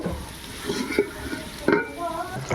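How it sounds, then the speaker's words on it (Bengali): Country chicken cooks in a pot, with a low sizzle under a couple of clattering stirs or lid knocks; close and moderately quiet, no speech. "দেখুন এখানে দেশি মুরগি রান্না হচ্ছে"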